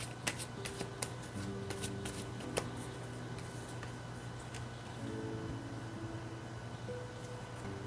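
Oracle cards are shuffled and drawn in a quiet room: soft, fast riffling and light flicks with a few sharper card snaps near the start, all close and low in volume.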